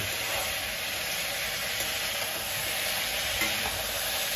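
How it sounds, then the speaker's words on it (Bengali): Potatoes frying in a pan and being stirred, a dense, steady close sizzle with faint scraping throughout and no talk. "আলু ভাজা হচ্ছে।"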